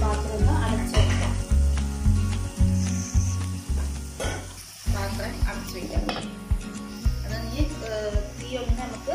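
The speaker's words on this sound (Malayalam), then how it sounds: "ആ രണ്ട് തക്കാളി ഇതിലോട്ട് ഇട്ട് കൊടുക്കാം" Two tomatoes sizzle and fry in a pan for simple chicken biryani while a spoon scrapes in a steady, repeated rhythm, close up, under a person talking.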